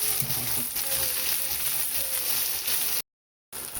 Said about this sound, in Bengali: পেঁয়াজ আর মাছটা বেশ ভালোভাবেই ভাজা হয়ে এসেছে